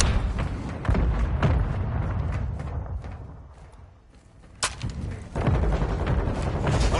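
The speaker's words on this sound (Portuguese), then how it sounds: "Granada de concussão lançada!" A concussion grenade detonates in Call of Duty MW2 multiplayer, a dull booming blast that is followed by a muffled lull. Sharp crack-like bursts and ongoing combat noise surround it.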